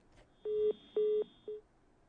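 Three beeps of a telephone line tone as a caller fails to connect on a live phone-in news show, the first two long and evenly spaced, the last shorter and softer, faint over quiet line hiss.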